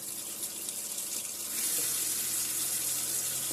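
Steady stream of water running from a tap on a Sterling Eccles Topaz fitting, a continuous hiss that swells louder midway as the flow strengthens, with no voices.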